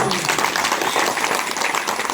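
An audience at a village gathering claps loudly and steadily in a dense wash of applause, with voices talking over it.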